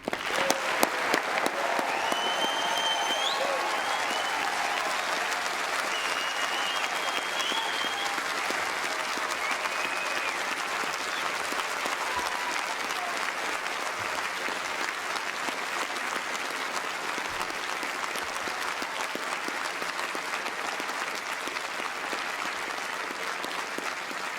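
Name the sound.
applause for new graduates at graduation ceremony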